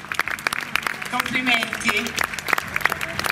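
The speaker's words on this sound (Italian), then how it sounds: "Facciamo un bel applauso a queste voi." Audience at an outdoor fashion show in Viggiano applauding the models, brisk uneven clapping close by with a voice speaking briefly over it.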